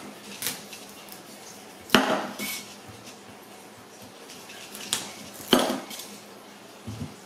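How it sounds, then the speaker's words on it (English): A knife cutting the ends off a washed spaghetti squash on a board, two sharp thuds as the blade goes through and strikes the board, with quieter knocks and scrapes between, close and without talk. "I've washed the spaghetti squash and I'm going to cut each end off of it"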